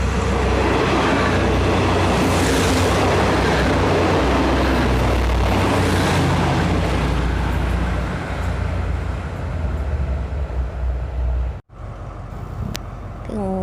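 Express train 72 from Ubon to Bangkok thunders through Klang Dong station in Thailand, a loud, sustained roar of wheels and carriages close by that holds steady for many seconds before cutting off abruptly.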